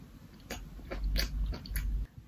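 Several crisp, crunchy bites and chews of food sound close to the microphone while someone eats on camera, in short bursts over about two seconds.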